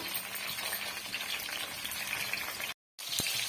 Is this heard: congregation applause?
no